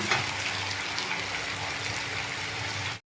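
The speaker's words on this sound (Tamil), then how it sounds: "நான் வச்சுருக்கிறதான இந்த சுடு தண்ணியை நான் இதில் ஊற்றிக்கிறேன்" Hot water pours steadily into a pan of sautéed onions while rava upma is being cooked, making a continuous broadband gushing and sizzling wash from start to finish with no talk.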